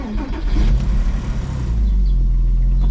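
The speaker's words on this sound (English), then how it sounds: "So yeah, Boxster is ready to fire up." Porsche Boxster engine, a car with 75,000 miles, rumbling loud and close as it fires up, settling after about two seconds into a steady low idle with no talking.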